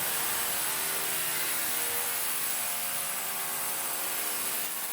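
A continuous, steady high-pitched whine of drilling runs throughout without pause, fairly loud and nearby, with no voices.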